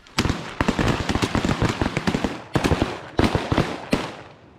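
Shotguns fire repeatedly during a goose hunt in Arkansas, a dense run of close, loud blasts overlapping in rapid volleys from several guns for over four seconds.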